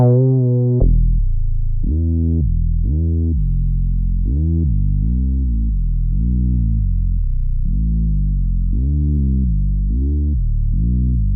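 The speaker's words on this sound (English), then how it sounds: "it's just this nice sub bass from Nexus" A deep sub bass synth preset from Nexus plays a slow series of low, sustained notes with a smooth, rounded tone, loud and alone.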